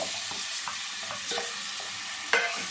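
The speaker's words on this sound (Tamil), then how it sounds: "நெய்யில் இந்த வாழைப்பழத்தை போட்டு" Nendran banana pieces sautéing in hot ghee give a steady close sizzle, with light scraping stir strokes and one sharper clack near the end.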